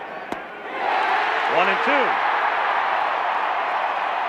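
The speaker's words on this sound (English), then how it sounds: "The crowd has picked right up where they left off last Sunday." Stadium crowd roar at a 1987 World Series baseball game, a steady broad wash of cheering that swells after a sharp knock and then holds, under a commentator's voice.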